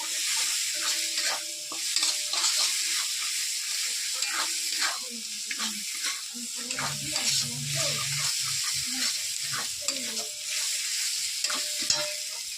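Spices fry in a pan with a constant bright sizzle, while a spoon scrapes and stirs repeatedly in quick irregular strokes, close up, with faint talk in the background.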